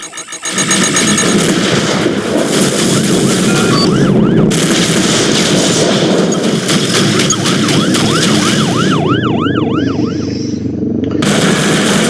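Incoming missile in the Rebel Galaxy Outlaw space-combat video game: repeated rising warning tones and whooshing streaks over loud continuous engine roar and booming weapon fire.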